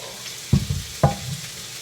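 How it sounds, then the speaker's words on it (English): Hot oil crackles and hisses steadily as chicken sizzles in a pan with plenty of oil, with two brief clattering knocks from a spatula, close by. "Oh yeah, listen to that sizzle."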